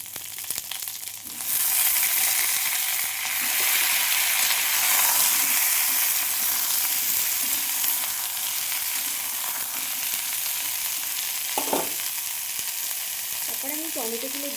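Potatoes hit hot tempered oil in a pan and fry with a loud, steady sizzle and hiss, stirred occasionally, with clinks of a utensil and brief scraping near the end.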